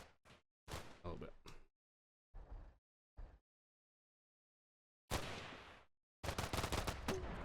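Sharp bursts of rifle and machine-gun fire in a firefight in the video game Combat Mission: Black Sea, several separate volleys broken by silent gaps, with louder sustained rattling toward the end.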